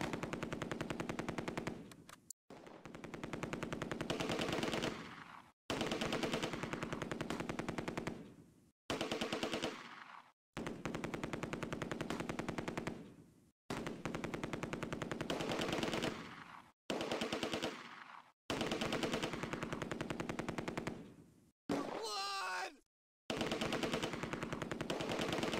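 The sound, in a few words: machine gun and small arms fire, Close Combat video game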